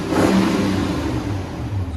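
A 2006 Toyota Tundra with a 4.7L V8 and Borla Touring exhaust revs up close, a deep, steady engine roar rising and holding for a couple of seconds, loud and alone.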